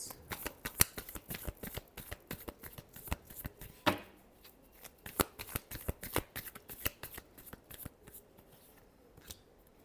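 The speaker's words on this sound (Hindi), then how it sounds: "Last shuffle, emperor reverse." Tarot cards being shuffled by hand in a quick, rhythmic series of crisp riffling snaps and flutters, close and fairly quiet, with one sharper burst midway and no talking.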